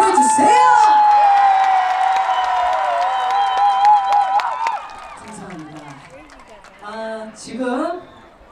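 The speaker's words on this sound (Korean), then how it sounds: "그러면 박수와 함성 보내주세요" A festival crowd at the Goheung Yuja Festival cheers and claps, with a long piercing whistle and whoops over the applause, then scattered shouting voices as the noise dies down.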